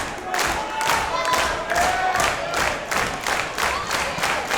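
A wrestling crowd at a ballroom event cheers and claps for Ryan Rapid in rhythmic, chant-like waves that swell and pulse steadily throughout.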